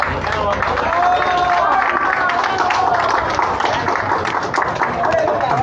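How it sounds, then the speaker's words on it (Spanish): Applause from a crowd of retirees at a teachers' union altar contest in Mexico: steady, dense clapping mixed with crowd murmur and voices, loud and continuous throughout. "le brindamos un aplauso fuerte a todos"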